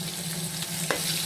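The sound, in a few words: mustard seeds and fenugreek sizzling in hot oil for rasam tempering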